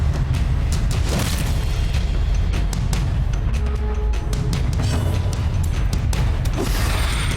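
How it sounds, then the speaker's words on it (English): A grenade blast in the dungeon-crawler game Darkest Dungeon, a heavy booming rumble sustained through the clip with scattered sharp impacts layered over a dense low roar. "Throw a grenade."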